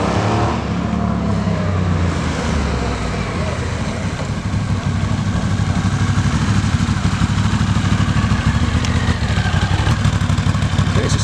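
A motorcycle still fitted with its original exhaust baffles rides past, its engine a loud, continuous rumble that stays steady and close throughout with no talk over it.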